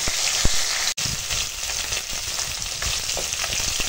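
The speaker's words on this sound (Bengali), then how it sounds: "মাছটা ভেজে নিয়ে ফিরে আসছি" Fish pieces fry in oil in a pan, a close, steady crackling sizzle with scattered pops throughout and a brief dropout near the start.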